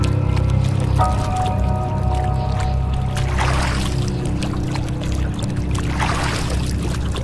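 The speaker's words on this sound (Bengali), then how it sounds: "আমি নৌকা নিয়ে ভেসে চললাম নদীর ওই প্রান্তে" A cartoon boat glides through river water with a continuous sloshing, squishy rush of water and low, steady motion noise throughout.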